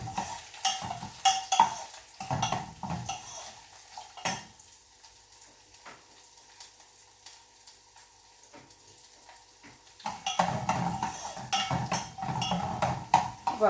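Sliced green chilies and garlic frying in a pan, with loud bursts of sizzling and spoon scraping at the start and end around a quieter stretch of soft, steady frying hiss; no talk.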